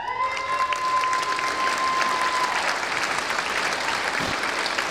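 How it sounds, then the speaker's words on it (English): Sustained applause with some cheering from a large audience at a graduation ceremony, steady and full throughout, with a brief whistle-like tone near the start. "That's a nice cheer, well done."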